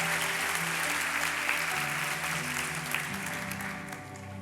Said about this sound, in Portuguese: Se você pode, aplauda Jesus o melhor que você puder